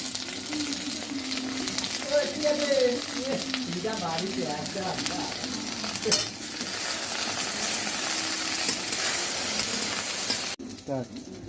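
Okra sizzles and fries in a pan with salt and turmeric, a continuous close hiss with occasional stirring. A voice talks over the first half.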